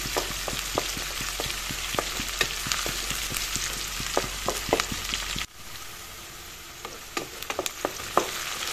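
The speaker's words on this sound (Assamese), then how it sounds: "এইখিনি অলপ ৰংচুমীয়া কৰি ল'ম পিঁয়াজ আৰু জলকীয়াখিনি" Onions and chillies fry in a pan with a close, steady sizzle, broken by the clicks and scrapes of stirring. The hiss quietens partway through, then the stirring taps resume.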